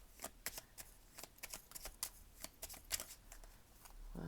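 Tarot cards being shuffled by hand, a quick series of soft crisp riffling flicks and slaps in an irregular rhythm, close and quiet, ending with a brief rustle.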